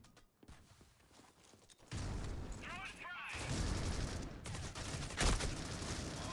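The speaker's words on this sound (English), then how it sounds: "Oh, and a wallbang headshot from Venily." Gunfire in the tactical shooter C-OPS during a grand-finals esports match, a wallbang headshot through cover: a sharp loud crack around the two-second mark, then dense, rumbling shots and booms that continue to the end.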